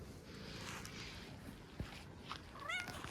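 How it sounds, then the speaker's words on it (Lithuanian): A friendly cat on a street in Cyprus gives one short, faint meow near the end, over quiet outdoor background noise. "tu mylus katinas"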